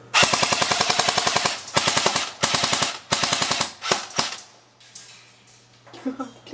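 Airsoft guns fire at targets in loud rapid bursts of close, sharp pops, with short pauses between the strings of shots and scattered single shots toward the end.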